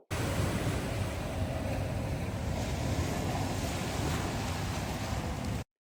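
Surf on Chenang Beach in Langkawi, Malaysia, a steady, continuous broadband wash of waves roaring close by, heavy wind buffeting the microphone throughout, with no voices.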